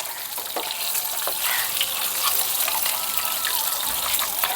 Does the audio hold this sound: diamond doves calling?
no